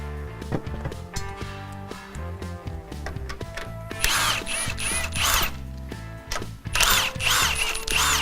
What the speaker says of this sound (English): You're going to use a 15mm socket to remove them.